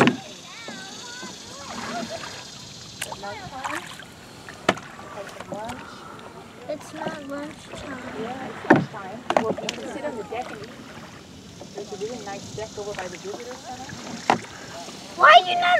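A canoe glides along the Potomac River, its paddles dipping and splashing intermittently at close range, with light water sounds and people chatting throughout.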